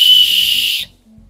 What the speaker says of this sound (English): Even whistle blowing.